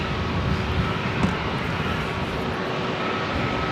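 A fixed-wing airplane at LAX floating over the runway on landing, a steady distant engine roar with no clear rise or fall, heard with no voices.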